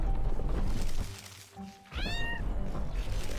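Cats meowing in the video game American McGee's Grimm: one clear rising-falling meow cuts through dense game background sound partway through, surrounded by constant ambient noise.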